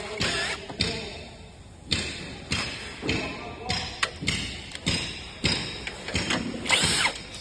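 Power tool loosening screws on a treadmill, with repeated short bursts of drilling and sharp thumps in an irregular rhythm, close and fairly loud.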